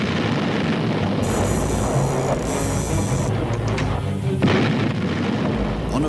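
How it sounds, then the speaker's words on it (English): Battleship Bismarck's heavy guns firing a series of salvos, a dense rumbling barrage of deep booms rolling continuously and loudly, with no voices. "Bismarck responds with a series of salvos."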